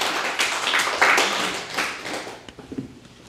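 A church congregation claps during a Korean-language sermon, a brief burst of sharp, fairly close hand claps that thins out into a few scattered taps at the end.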